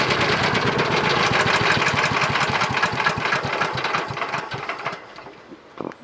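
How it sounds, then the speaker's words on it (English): A Honda 8HP engine on a Billy Goat machine runs with a rapid, rattly, knocking chug, loud and close, steady at first and then fading and sputtering toward the end. "good old engine on that, isn't it? It's a bit rattly, a bit noisy"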